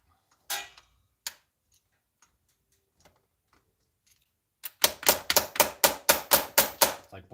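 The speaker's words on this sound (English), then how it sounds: "It's like blind hammering." A hammer strikes a part being driven into a hole: two isolated knocks early on, then a rapid run of about a dozen sharp, loud metallic blows close by.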